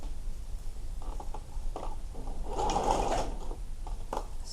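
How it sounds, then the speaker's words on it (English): An overlocker stitches around the edge of a fabric sleeve, a soft mechanical whirring and ticking that comes in short bursts and swells in the middle, close and fairly quiet. "I will now overlock all the way around the side"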